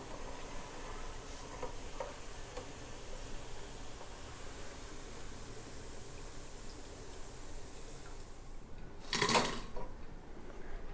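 Moong dal vadas, lentil fritters, frying in hot oil, a low continuous bubbling sizzle close by, with a short louder burst of sputtering near the end.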